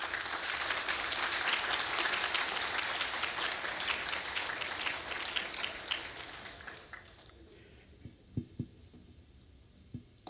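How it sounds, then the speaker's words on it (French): Graduating medical class applauding at a commencement ceremony, a dense, sustained wash of clapping from a large crowd that fades away over the final seconds, leaving a few isolated knocks. "Et je vous demande de vous applaudir"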